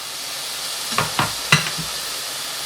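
Eggplant stir-fries in a pan under a steady hiss of sizzling, with a few distinct scraping stirs of a spatula in quick succession.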